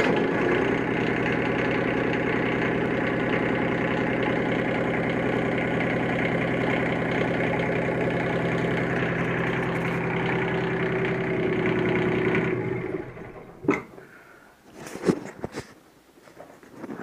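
A small diesel motor fitted in a 26-foot Cole trailer sailor runs at a steady, loud idle for about twelve seconds, then cuts out, leaving a few scattered knocks and rustles.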